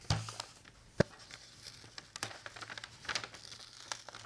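Packaging being unwrapped from an Elgato Prompter XL, faint close crinkling and rustling of material with a couple of sharp ticks and taps scattered through, no voices.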